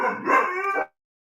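A dog gives one drawn-out bark that slides into a brief howl, close and fairly loud, ending abruptly before a short silence.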